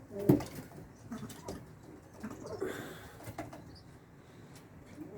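Pigeons of the Bango Mısırı high-flying breed coo near the start, one strong call followed by fainter scattered bird sounds over low background rustle.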